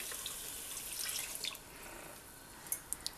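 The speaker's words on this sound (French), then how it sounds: "J'ajoute les 400 ml de lait." Milk poured into a seafood gratin mixture after deglazing with white wine, a soft steady liquid pour with faint splashes, ending in a few small drips.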